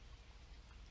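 Steady rain falls on a riverside spot with rocks during a fishing trip, a dense, even hiss of drops with low rumble underneath. There are no voices.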